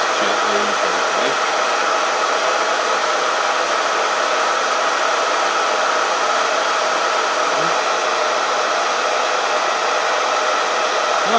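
Steady stream of blown air sweeping the light shells away from home-grown cocoa beans being winnowed, a continuous broadband rush lasting the whole stretch with no pauses, fairly loud and close.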